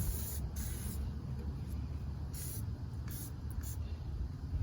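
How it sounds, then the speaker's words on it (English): WD-40 Big Blast aerosol sprayed over a nitro RC car, a series of sharp hissing bursts of varying length in quick succession, close and fairly loud, with no speech. "you're just going to spray the whole thing."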